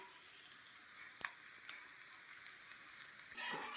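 A dosa sizzles in oil on a hot pan, a soft, continuous frying hiss throughout with a few small pops and clicks, fairly quiet and close.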